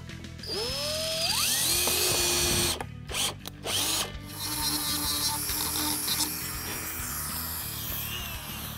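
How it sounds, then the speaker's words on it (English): A power drill bores holes during a Roush supercharger kit install, spinning up loudly with a rising whine, pausing briefly in short bursts, then running on at a steady drone. "I'm going to drill a center hole for each of the squares and use a Dremel to open them up."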